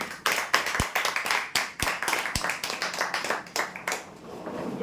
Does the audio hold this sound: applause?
yes